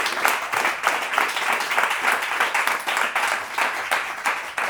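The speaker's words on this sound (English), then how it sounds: "So a big applause for her." An audience claps for a dancer at a swing dance festival event, brisk and lively applause with distinct pulses of hand claps, steady for several seconds.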